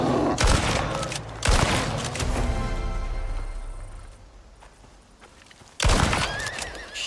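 A horse neighs in the video game Icarus, with loud broadband bursts near the start and again near the end amid a busy, noisy in-game scene of gunfire and commotion.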